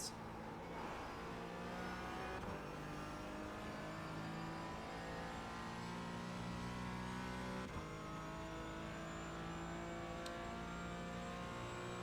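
Porsche Cayman GT4 engine pulling hard on the VIR race track, a loud steady climbing wail of revs with brief dips at gear changes across the run, heard from inside the car with no talking.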